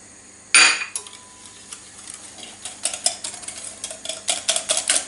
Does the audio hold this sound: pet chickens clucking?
no